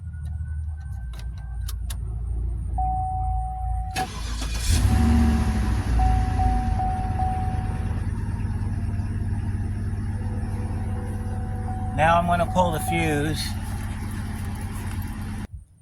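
A Cadillac DTS engine rumbles steadily at idle with a few clicks and a brief spoken line over it, then dies abruptly at the very end as fuel pressure is lost during fuel pump work.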